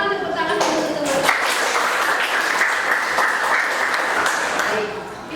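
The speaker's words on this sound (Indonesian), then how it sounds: "Silakan tepuk tangan untuk teman." A classroom group of teachers in training claps for classmates who have just presented, with dense applause that starts after a brief voice and fades at the end.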